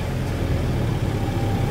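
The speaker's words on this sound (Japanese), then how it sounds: "ちょっとエンジンかけてみましょうか。" An Audi A1 engine runs at a steady idle, a close, even low rumble that holds without a break and with no voices over it.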